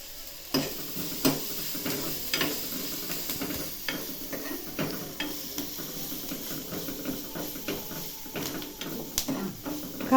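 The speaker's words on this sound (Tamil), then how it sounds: "வெங்காயம் வதங்கிடுச்சு. இப்போ மஞ்சத்தூளும் கரம் மசாலாம் போட்டாச்சு." Onions with turmeric and garam masala being stirred in a frying pan, outdoors in a garden: repeated scraping strokes of a spoon over a steady close sizzle, with no talking.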